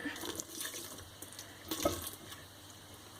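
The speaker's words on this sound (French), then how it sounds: "Désormais, je vais le verser en filet sur ma préparation." Cooled vanilla-infused milk trickles in a thin, steady stream onto far breton batter with prunes, a faint, soft liquid pour with a brief louder splash midway and no talking.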